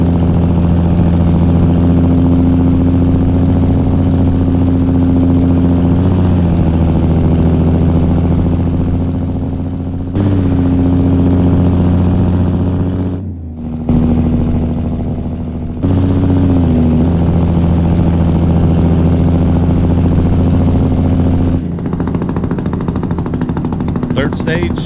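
A Cummins N14 truck engine runs with its Jake brake engaged, a loud, steady, rattling diesel drone that shifts in pitch and intensity as it steps through brake stages, with brief dips between sections.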